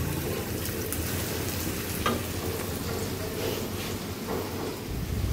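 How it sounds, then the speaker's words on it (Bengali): Onion and garlic fry in hot oil for a dal tempering, giving a close, steady sizzle with scraping stirs and light clinks throughout. "এখানে বাগারের জন্য সব কিছু ভেজে নিচ্ছি, পেঁয়াজ, রসুন"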